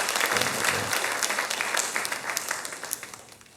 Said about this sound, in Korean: 예, 박수 쳐도 괜찮아요.